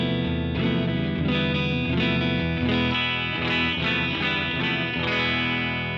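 An electric guitar with humbuckers plays a chordal phrase through a Victory V40 amp set near clean, just breaking up, with spring reverb from a Boss Waza tube amp expander; the rhythmic strums ring full and close.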